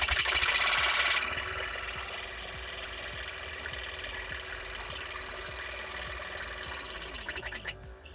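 An Iteknic water flosser runs at maximum pressure, its small motor giving a loud, close, continuous buzzing drone with a fast pulsing tick throughout, with no speech.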